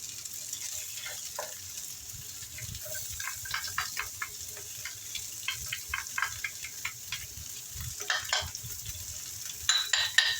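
Ginger and garlic sizzle in hot oil in a stir-fry pan, a soft crackling hiss with scattered pops and a few stirring scrapes, fairly close and fairly quiet.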